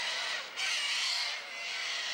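Sanguine cockatoos in the Australian landscape screech in a harsh, continuous, raspy chorus, loud and unbroken apart from a brief dip midway.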